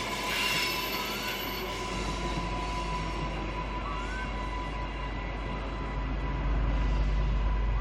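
A train pulls into Petrie station in Brisbane, a steady rumbling roll with faint high wheel squeal, heard from the platform at moderate distance and continuing throughout.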